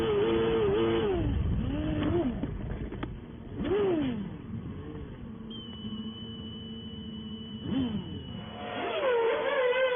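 1993 Formula 1 race cars at a race, engines swelling as cars pass by in several distinct waves, loud high whines rising and falling, with a steadier engine drone in between.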